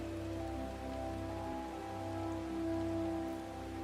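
Rain falls steadily in a VR MMORPG game scene, a soft continuous patter on surfaces beneath a steady background hum, with no talking.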